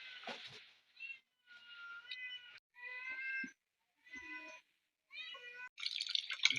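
A domestic cat meows repeatedly in a home during a lunch of country chicken curry, a string of clear, fairly quiet cries separated by short pauses.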